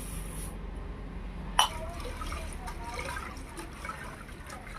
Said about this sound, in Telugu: రెండు మూడు సార్లు కడుక్కున్నామండి శుభ్రంగా ఉంటాయి